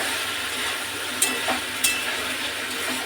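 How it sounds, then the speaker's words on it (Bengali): Spice paste sizzling and frying steadily in oil in a pan, a dense continuous crackle with a few brief scraping stirs of a spoon over the top. "মশলাটা ভালো মতন কষানো হয়ে গেছে, মশলা থেকে তেল ছেড়ে দিয়েছি।"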